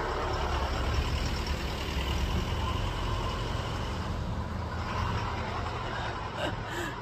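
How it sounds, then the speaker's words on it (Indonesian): A car passes along a narrow alley street in a dense neighbourhood, its engine rumble steady and fairly close throughout, with a broad low road noise that fades slightly near the end. "Lagi ada mobil lewat."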